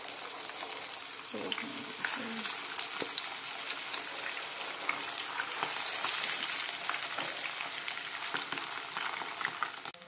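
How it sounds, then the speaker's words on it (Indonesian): Steady hiss and crackle of catfish frying in hot oil, continuous and fairly loud throughout, with occasional stirring scrapes. "Kita goreng lelenya di minyak panas."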